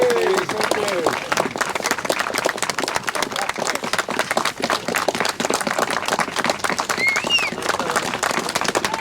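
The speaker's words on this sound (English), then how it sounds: "Yes, we have a massive round of applause, please." A crowd at a canal restoration celebration with cycling children breaks into sustained, dense clapping and applause outdoors, with birdsong audible and some voices mixed in.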